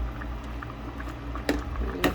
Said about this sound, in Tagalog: Init ko pa yung tubig